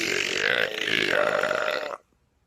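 A single long, loud burp rolls out for about two seconds, close and rasping, then cuts off abruptly into silence.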